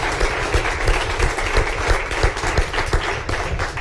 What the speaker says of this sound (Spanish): Yo creo que un aplauso para ellos, si os parece.